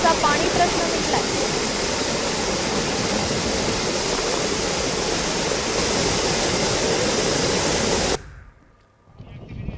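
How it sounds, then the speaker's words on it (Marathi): Water discharges over a dam spillway in a loud, constant roaring rush that cuts off abruptly near the end. "धरणाच्या सांडव्यावरून मोठ्या प्रमाणात पाण्याचा विसर्ग सुरू आहे।"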